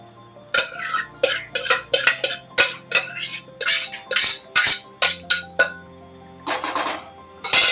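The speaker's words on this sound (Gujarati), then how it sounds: "બાફેલું બધું શાક નાખી દેવું." Metal clatters and scrapes on a tawa as boiled mashed vegetables go in for pav bhaji, a series of loud, close, irregular clanks and stirring strokes with short pauses between them.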